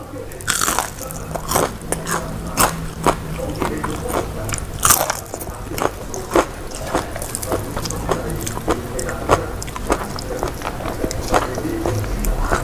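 Crunchy Indonesian vegetable fritters (bakwan kriuk) are bitten and chewed close to the mic, producing loud, repeated crisp crunches in an irregular rhythm throughout.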